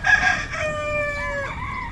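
A rooster crows one loud, drawn-out call close by, its voice rising and then trailing off against a quiet background.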